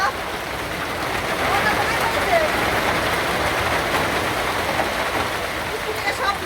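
Heavy rain falls with rising wind, a dense, steady broadband hiss and patter that stays close and constant, with voices occasionally audible beneath it.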